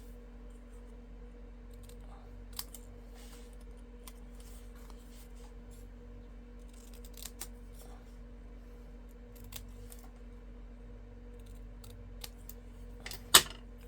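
Scissors cutting paper for a handmade Stampin' Up card: quiet, sparse snips and small paper clicks over a low steady hum, one sharper snip near the end.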